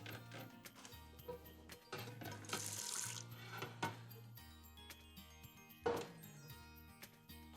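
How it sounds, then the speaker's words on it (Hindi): About two or three tablespoons of water poured from above onto layered beef biryani rice, a brief splashing trickle heard twice over steady background music. "थोड़ा सा पानी, कोई 2-3 टेबलस्पून पानी इसमें हम ऊपर से डाल देते हैं।"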